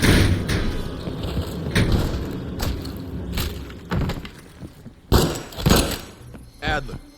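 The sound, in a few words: door being opened in the video game Call of Duty Black Ops Cold War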